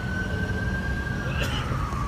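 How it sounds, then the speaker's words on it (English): An ambulance siren passing by as a single steady wailing tone that slowly drops in pitch, moderately distant and mixed into constant low street rumble. "I hope that's the ambulance."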